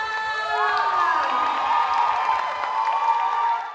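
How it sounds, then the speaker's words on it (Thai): An audience cheers, whoops and applauds to welcome a school Thai classical music ensemble from Ratchaburi at an onstage performance event, a steady loud crowd roar with tonal shouts sustained for the whole stretch. "ขอเสียงปรบมือให้กับโรงเรียนสารสิทธิ์วิทยาลัยจังหวั ดราชบุรีค่ะ"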